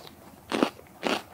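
Two crisp bites into a raw cold-hardy winter garden vegetable, each a short close crunch with a brief crackle, spaced about half a second apart over a quiet background.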